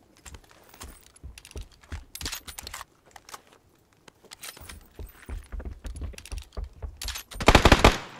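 Rapid automatic gunfire and single shots in PlayerUnknown's Battlegrounds, loud bursts spread across the clip with a dense volley near the end, while players shout between the shots.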